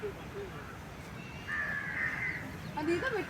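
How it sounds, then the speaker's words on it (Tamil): A crow perched on a rhinoceros at Vandalur zoo gives a few harsh caws, moderately near, over low background murmur and faint voices. "அது மேலே காக்கா உட்காந்து சவாரி செஞ்சிட்ருக்கு."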